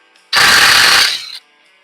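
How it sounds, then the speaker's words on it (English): A single loud, grinding burst of a power drill straining against a knot in hard wood for about a second, close by, then stopping abruptly. "I'm trying to drill through the knot"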